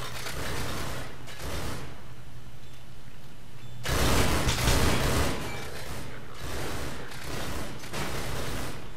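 Gunfire in Half-Life 2 rings out as bursts of shots and mechanical clatter, with a louder, denser volley in the middle and quieter rattling around it.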